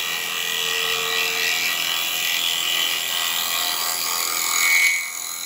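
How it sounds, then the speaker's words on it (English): A woodturning tool scrapes a small wooden pot spinning on a lathe, producing a steady, close, continuous rasping hiss with no pauses that swells briefly near the end. "all I'm doing really here is scraping with this"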